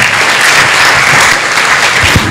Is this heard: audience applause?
yes